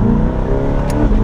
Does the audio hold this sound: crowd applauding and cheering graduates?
no